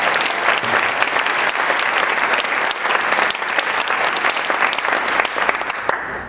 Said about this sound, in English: Let's give applause for that